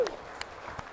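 A few sparse claps at a corporate leadership seminar, three separate hand claps spaced roughly evenly, fairly close and clear against a quiet room.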